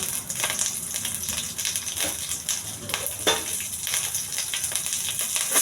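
Chicken with curry leaves and onions frying in oil, a steady dense sizzle with scattered crackles and soft stirring scrapes throughout.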